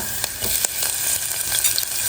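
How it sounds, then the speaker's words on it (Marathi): Onion sizzling and frying in hot oil with a little garlic in a pot, a steady close crackle with a few soft stirring scrapes for a couple of seconds and no talking. "आणि हलकंसं परतून घेऊ कांदा परतून घेतला"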